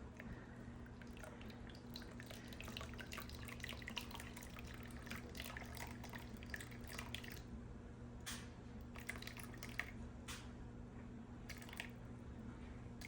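Distilled water pours and trickles into a measuring container for a three-ingredient cold process soap batch, a soft steady splashing over a constant low hum, with no voices.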